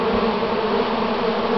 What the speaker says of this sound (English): This is like blissful bee time right now. Many bees in the air.